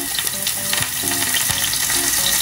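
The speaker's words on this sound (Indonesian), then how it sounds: "Kan bisa denger gak sih itu suaranya kayak meletup-letup." Food frying in a pan gives a continuous bright sizzle with frequent small pops and crackles, loud and close, with no one talking.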